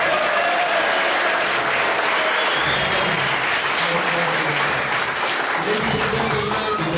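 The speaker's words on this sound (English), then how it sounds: "giving your loudest clap for the most important piece in our choir" Church choir audience applauding, a dense sustained clapping from a sizeable crowd indoors, with a voice speaking faintly beneath.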